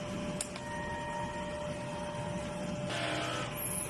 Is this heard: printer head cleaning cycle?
yes